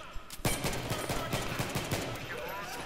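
1911 pistol fire in Battlefield 3 on the Seine Crossing map, a pistols-only match: a burst of close, punchy shots in a quick, slightly uneven rhythm that tapers into fainter pops, with a voice faintly present underneath.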